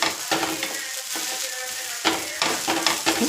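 Dosa batter of ration rice and urad dal frying on a hot pan, a steady close sizzle with a few scraping strokes and light metallic clinks from a spatula.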